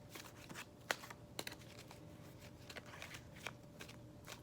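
Tarot cards shuffle in quick, crisp riffles and taps close up, a soft steady flurry of card-on-card snaps in a quiet room.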